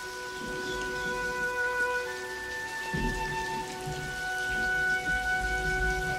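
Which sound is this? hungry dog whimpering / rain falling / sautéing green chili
rain falling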